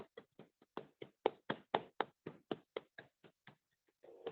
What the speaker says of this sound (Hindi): सभी तालियों के साथ मैडम का इनवाइट करेंगे